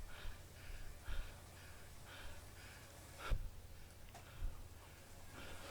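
Rhythmic heavy panting from a cyclist climbing hard uphill in a stage of the 2019 Tour de Zwift, repeated gasping breaths close to the mic over a steady low hum, with a couple of sharper bumps.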